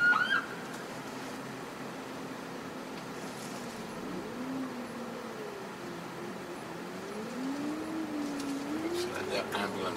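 Ambulance siren passing by on a road, a wavering wail rising and falling at moderate distance over steady traffic noise, without speech.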